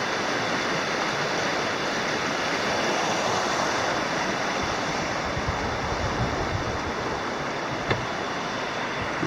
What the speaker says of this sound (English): There's the 10 Mile River.